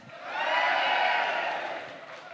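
Live audience at a hurling podcast show in Thurles cheering and whooping loudly, a swelling roar from a packed room that peaks quickly and then fades.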